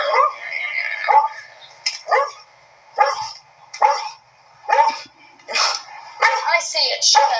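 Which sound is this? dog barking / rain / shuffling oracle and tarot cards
dog barking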